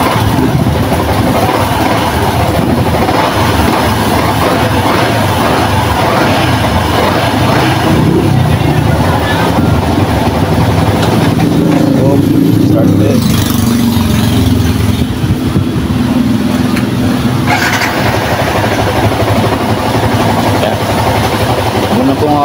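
A Yamaha MT-15 motorcycle running after an ignition switch repair, its engine holding a steady, loud, close idle throughout with slight shifts in tone; someone talks over it at times.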